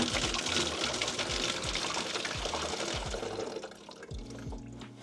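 Developer liquid is dumped quickly out of a black-and-white film developing tank, a continuous close gushing pour with faint rhythmic knocks beneath, tapering off toward the end.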